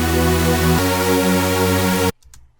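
Layered supersaw synth lead built in Xfer Serum, a loud, steady buzzing sustained chord that shifts once partway through, then cuts off abruptly into near silence.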